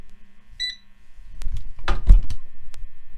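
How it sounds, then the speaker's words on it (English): A basket is loaded into an air fryer: a short electronic beep, then a few clunks and knocks and a louder thud as the basket slides into place, all close up. "here's the first batch loaded into the air fryer."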